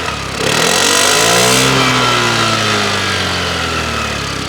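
A Suzuki Access 125 scooter's engine is started and revved up close, rising sharply into a loud, buzzy drone whose pitch climbs and then settles, with no one speaking over it.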